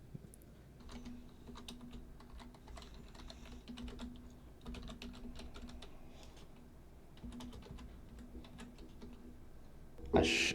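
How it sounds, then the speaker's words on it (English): Steady typing on a computer keyboard, quick irregular key clicks close by, with a low hum underneath and a louder knock at the end. "I have to say my typing is pretty good."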